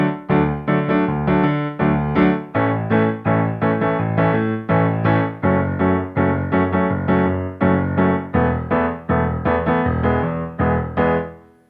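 Piano playing a song, a bass line joined by the rhythmic verse chords, steady repeated chord strikes in a bright, even pulse, close and alone.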